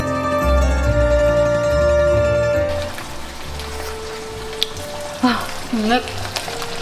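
Chicken sizzling in a pan while being sautéed for pasta, a steady crackling fry under a music bed that drops out, followed by a few clinks and scrapes of stirring.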